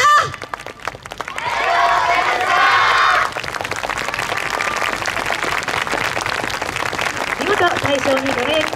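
A crowd applauds and cheers at the 2019 Omigawa YOSAKOI hometown festival, honouring an award-winning dance team. The clapping swells after a short opening and stays as a dense, steady roar, with an announcer talking over it.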